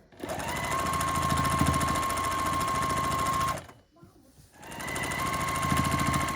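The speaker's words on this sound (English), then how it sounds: "I just finished sewing that column on" A sewing machine stitches a column onto quilt blocks in a steady, loud mechanical whir, pausing briefly near the middle before running again.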